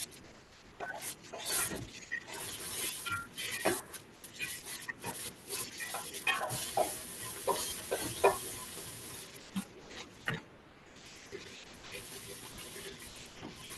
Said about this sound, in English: we'll just give this a nice stir